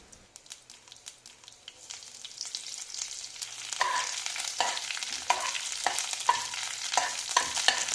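Fresh curry leaves dropped into hot oil with broken dried red chillies while tempering for uppu mani kozhukattai, a steady close sizzle that swells after a few seconds, with stirring scrapes and small crackling pops, no talk.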